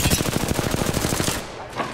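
Rapid automatic gunfire in the video game Apex Legends, one loud steady burst of evenly spaced shots lasting over a second, then cutting off with a brief fading tail.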